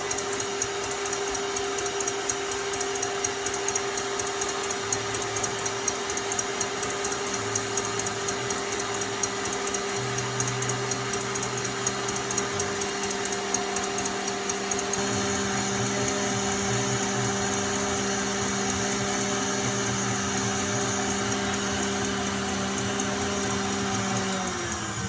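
Electric stand mixer whipping meringue for coconut cream pie at top speed 10, a steady high-pitched motor whine with a constant whirring drone throughout, close and loud without talk.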